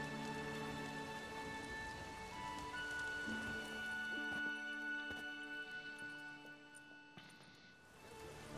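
Steady rain falling in The Witcher 3, a continuous dense hiss layered under sustained tonal music drones, holding level throughout before thinning slightly near the end.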